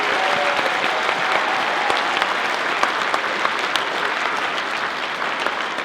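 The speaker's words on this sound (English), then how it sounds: "Let's have another big round of applause for the students." A concert audience at a high school honor band performance gives a steady, full round of applause, dense and even from start to finish with no voices over it.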